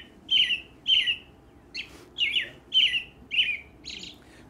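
American robin singing its typical song, a run of about seven clear, caroling phrases evenly spaced and repeated, moderately close and alone over faint background hiss.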